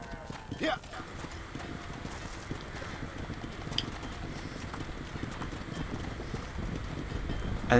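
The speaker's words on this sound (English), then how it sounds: "I think it's because that horse ran into you." Horse hooves clip-clop steadily in the Western video game Red Dead Redemption, a soft, fairly even trotting rhythm under players talking.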